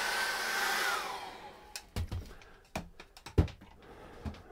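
A hair dryer blows steadily for about a second and a half, drying acrylic paint on a winter Christmas card painting, then cuts off, leaving clicks and small handling knocks at close range.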